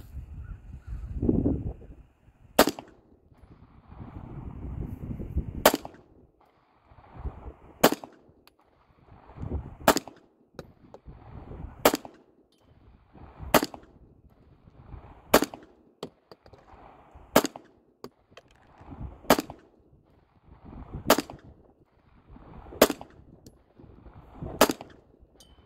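A Grisan MC P35 pistol fired at a target, about ten sharp single shots spaced a couple of seconds apart, each a crisp crack over low background rumble and shuffling.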